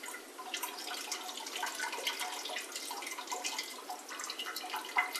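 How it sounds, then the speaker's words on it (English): Whey liquid draining off fresh homemade cheese into a sink, a faint, steady trickle with scattered drips and splashes running throughout, quiet and close. "maybe tilt it a little bit to get some of the liquid to run off a little quicker"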